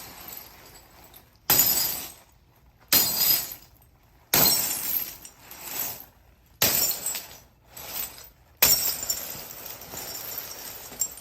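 A handheld crash box prop loaded with glass and bottles is whacked and rolled, producing five loud separate bursts of shattering and clinking, each lasting about a second, with quiet gaps between them.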